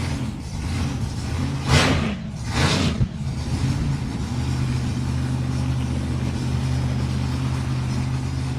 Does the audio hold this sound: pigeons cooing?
no